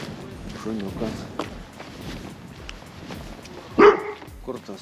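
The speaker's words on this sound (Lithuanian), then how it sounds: "Šuniukas." A puppy barks in a home, with a few short yips and one louder sharp bark near the end, all mixed in with people talking.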